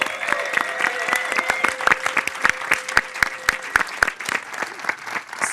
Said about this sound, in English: can we please give a round of applause for our panel and host?